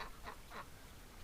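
Outdoor ducks kept through a winter give three short raspy quacks in quick succession, moderately close but not loud, with no talking.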